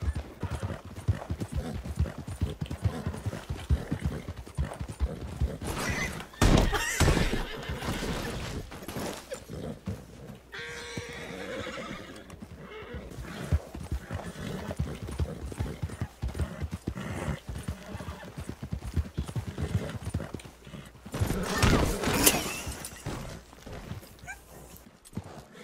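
Hooves clip-clop rapidly in a galloping rhythm in Red Dead Online, punctuated by loud crashes and a horse's whinny, with scattered game effects throughout.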